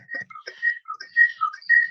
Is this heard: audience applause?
no